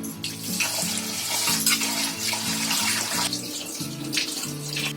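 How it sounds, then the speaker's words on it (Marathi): A bowl of raw rice is washed by hand in water, with continuous splashing and sloshing beneath steady tonal music. "पहिला आहे ना तांदूळ धुवून घ्यायचे स्वच्छ"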